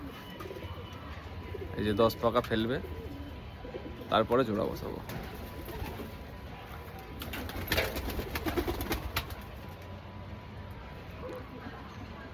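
Short-sized pigeons coo in soft, low bursts around two, four and eight seconds, with someone talking over them in a quiet setting.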